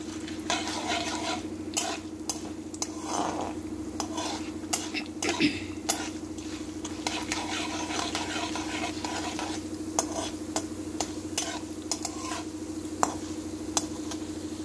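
Steady sizzle of spices frying in hot oil, with a spoon scraping and clinking against the pan in irregular strokes throughout.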